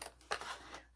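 Scissors snip through a sheet of watercolor paper for a bookmark in a couple of quick, faint, close cuts.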